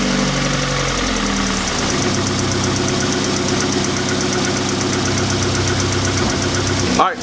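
A VW Mk4 VR6 engine, freshly fitted with a swapped intake manifold, turns over and settles into a steady, smooth idle with a continuous low rumble, close and loud until it cuts off abruptly at the end.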